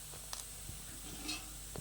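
Chicken pieces fried in hot oil give off a soft, steady sizzle with faint crackles, heard close and continuous over a short stretch.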